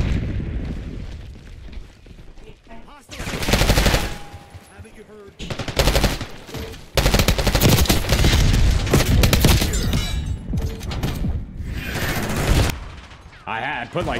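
Heavy gunfire in Black Ops 6 multiplayer, loud sustained automatic bursts and blasts in several long stretches separated by quieter gaps, close and booming with game noise around.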